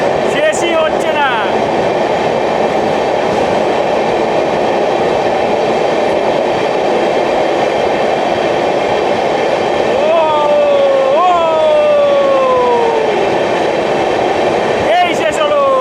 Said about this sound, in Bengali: আমাদের 22 কোচের ট্রেন অনেকক্ষণ ধরে চলেছে সুড়ঙ্গের মধ্যে